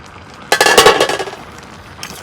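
Food stirred in a karai, a wok-like pan, while cooking taki fish with bottle gourd leaves and potato gives a burst of close metallic clinks and scrapes, then fades, with one faint clink near the end.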